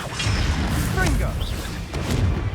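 A Confringo spell blast in Hogwarts Legacy, a loud booming burst with whooshing magical effects over dense game sound, with a voice heard in the mix.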